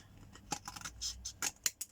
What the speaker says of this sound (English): I'm just going to run my scissors, ding, up there.